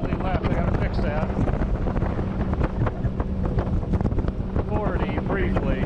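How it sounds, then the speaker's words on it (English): Strong wind buffets the microphone on a moving Sea-Doo Switch pontoon boat on choppy water, a loud, constant roar with a voice faintly audible beneath it. "Very windy out."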